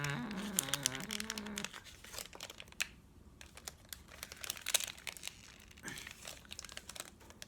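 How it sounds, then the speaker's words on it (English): A foil pouch holding a COVID-19 rapid test card is torn open by hand, giving close, sharp crinkling and ripping bursts that come in several uneven spurts with short pauses between them. "I'm going to open the foil pouch of COVID-19 test card."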